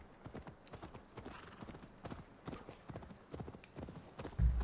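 A horse gallops in Assassin's Creed Valhalla, with quick rhythmic hoofbeats repeating for the whole clip at a fairly quiet level and a brief louder thump at the very end.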